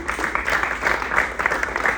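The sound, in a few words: comedy club audience applause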